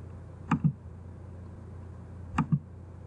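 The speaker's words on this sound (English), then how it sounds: "So I'll enter this by double clicking." A computer mouse double-clicks twice in a quiet room: two crisp pairs of close clicks, roughly two seconds apart.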